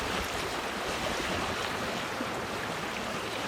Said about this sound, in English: I'm at the moment sailing on the Clarence River